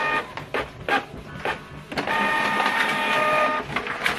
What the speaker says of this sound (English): So this is the printer.